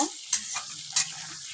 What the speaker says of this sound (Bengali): এবার তেলটা গরম হয়ে গেলে আমি গোটা আলুগুলোকে ভেজে নেব।